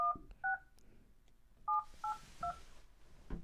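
A telephone keypad gives five crisp two-tone beeps as a number is dialed, spaced irregularly over a few seconds, close and clear with quiet rustling between.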